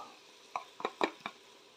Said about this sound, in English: Stir in the garlic and ginger paste.